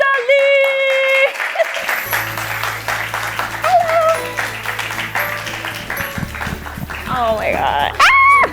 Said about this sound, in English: can I please lend your applause for Alyssa Lee?